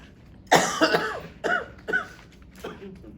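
A series of four or five harsh coughs in close succession, fairly near and moderately loud, with brief pauses between them.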